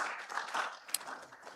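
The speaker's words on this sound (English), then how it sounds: "a round of applause once again for our president" Audience applause at a medical and dental practitioners' annual general meeting in Ghana, a brief burst of dense clapping from the crowd with no speech over it.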